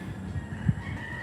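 Roosters crow once, briefly and at moderate distance, in a tree-lined outdoor neighbourhood in the Philippines, a single short call rising over steady background ambience.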